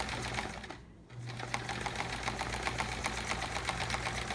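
A sewing machine free-motion quilting lettering on a chevron quilt whirs at a fast steady stitching rhythm, pausing briefly before resuming, close and alone without talk.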